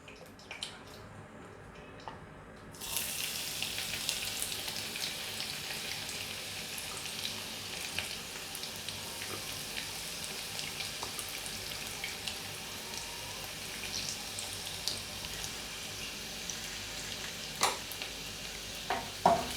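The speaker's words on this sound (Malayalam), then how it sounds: "അപ്പോൾ നമ്മുടെ എണ്ണ ചൂടായിട്ടുണ്ട്. നമുക്കിതിലോട്ട് കുറച്ച് വെളുത്തുള്ളി അരിഞ്ഞിടാം." Chopped garlic is dropped into hot sunflower oil and bursts into a steady, loud sizzle after a few quiet seconds. The frying crackles on continuously, with occasional stirring clinks toward the end.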